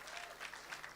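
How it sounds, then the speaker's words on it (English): An audience claps for a guest of honour at a business speed-dating event, a brief burst of dense, fairly quiet applause from a crowd. "Can we revive that by clapping for Her Excellency again?"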